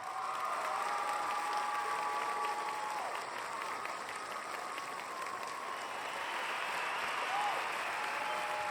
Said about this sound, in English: Give me some more applause